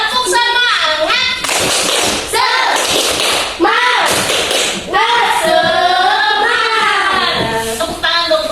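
Grade 5 pupils in a classroom perform a patterned spirit clap, with loud groups of rhythmic claps and thumps alternating with children's chanted voices.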